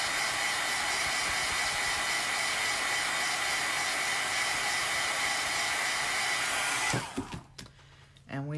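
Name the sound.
hair dryer drying chalk paint craft project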